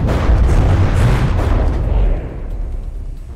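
Heavy artillery barrage in the naval battle game From the Depths, a dense roar of overlapping booms and blasts that holds loud for about two seconds, then thins into a rumbling decay.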